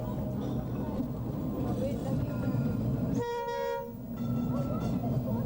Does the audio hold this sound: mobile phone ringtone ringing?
no